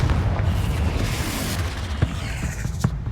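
Explosive blasts from the Confringo spell in the Hogwarts Legacy video game, a steady rumbling wash with a couple of sharp bursts near the end, no talk.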